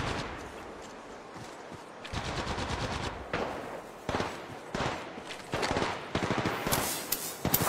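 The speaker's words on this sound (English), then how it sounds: "Opening fire." Gunfire in the Apex Legends Mobile video game: bursts of rapid automatic shots come in several separate volleys with short pauses between them, growing louder toward the end, with no voices.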